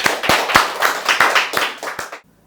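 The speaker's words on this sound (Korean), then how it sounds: "다시 한번 큰 박수 부탁드립니다" A small audience claps after a humanities lecture in Suwon, a handful of distinct sharp claps in an uneven rhythm that stop abruptly near the end, leaving near silence.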